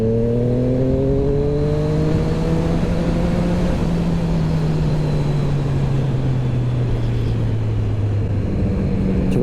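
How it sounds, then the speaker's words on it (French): A power-restricted motorcycle engine revs with a rough, throaty tone, pitch rising then slowly falling, loud and close, steady throughout. "c'est quand même pour une moto bridée, je trouve, ultra sexy comme sonorité."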